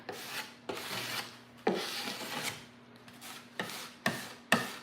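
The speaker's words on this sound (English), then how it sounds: "I'll take my sanding sponge and just kind of sand off the excess" A sanding sponge rubbing over dried wood filler on a piece of painted furniture, a series of close, rhythmic rasping strokes with brief pauses between passes.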